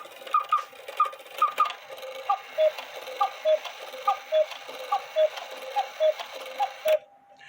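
A Hubert Herr cuckoo quail clock strikes the hour, repeated paired two-tone calls alternating in a steady rhythm, each pair ringing clearly and close, with faint mechanical whirring beneath and no talk.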